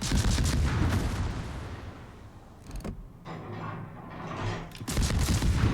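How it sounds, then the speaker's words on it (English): Naval gunfire from a Gremyashchy destroyer battle in World of Warships, single-turret salvos sounding as loud booming blasts at the start and end with a few sharper reports between, over constant mechanical rumble. "He seems to be firing his guns on single turrets"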